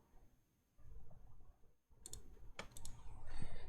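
A few sharp computer mouse clicks, set during a virtual machine setup for a Windows Server 2022 Datacenter install, land in quick pairs over a low background hum.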